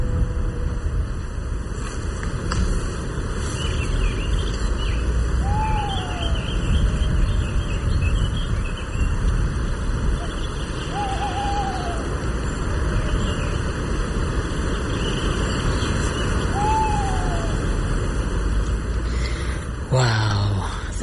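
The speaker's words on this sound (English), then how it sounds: "Wow, the Tawny Owl." Tawny owl calling at Castle Ward, three short hooting calls spaced several seconds apart over a dense broadband hiss of outdoor background noise.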